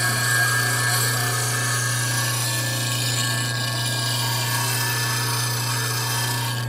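A woodturning lathe gouge sharpened on a bench grinding wheel with a jig, a continuous loud grinder hum with a steady hissing, rasping contact of steel on the wheel, close and unbroken, with no talk.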